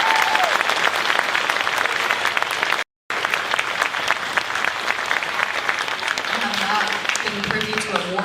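An audience claps steadily for the band directors at a high school area honors band concert, with dense, sustained applause filling the hall apart from a brief break and a few voices in the background.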